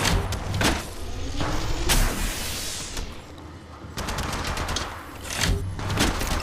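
Rapid bursts of gunfire in the mobile shooter Apex Legends Mobile crackle one after another in dense volleys, with short gaps between them, loud and close.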